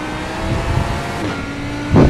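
A race car engine in Indy Super Trofeo testing drones steadily on track, with a brief surge as the throttle opens near the end, heard from on board with no voices.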